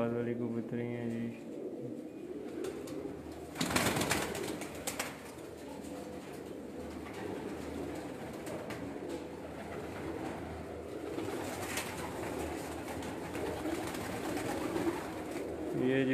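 Female homing pigeons on a rooftop loft give low, steady cooing with occasional wing flaps and one loud flutter burst near the start, while people talk nearby throughout.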